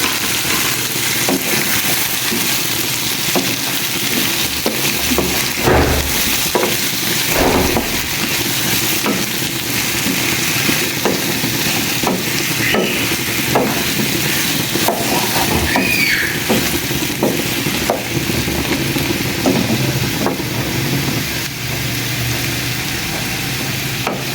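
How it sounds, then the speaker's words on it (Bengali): Bottle gourd pieces fry together in a pan for a tilapia and pumpkin dish, giving a constant close sizzle with frequent scraping taps of a spatula stirring, and no talking. "এই লাউটাকে একসাথে ভেজে ফেলবো"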